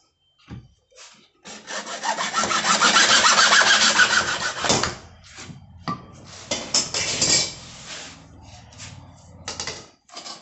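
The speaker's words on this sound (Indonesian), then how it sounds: "Kita lepas dulu, baru kita gergaji." A hand saw rasps through PVC pipe in a sustained burst of back-and-forth strokes, followed by shorter, choppier cuts and scrapes up close.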